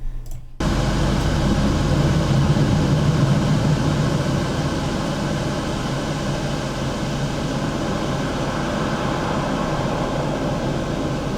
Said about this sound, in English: Now that we got the wind / ambience in place